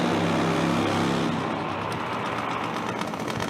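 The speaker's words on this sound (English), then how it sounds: "Vidar Arnsborg, a really nice slow burnout" A Supertwin top fuel nitro drag bike does a slow burnout at a drag racing event, producing a loud, continuous engine roar with a rough, churning texture throughout.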